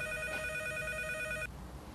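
A telephone ringing, a steady electronic ring tone held for about one and a half seconds before cutting off, fairly faint against background hiss, with no talk.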